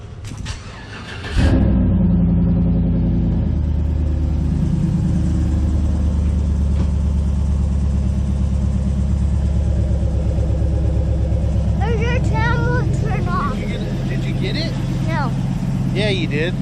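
A lifted Chevy Silverado pickup cold-starts with a brief cranking burst and catches into a loud, steady rumbling idle recorded near the exhaust at the rear, with people talking over it toward the end.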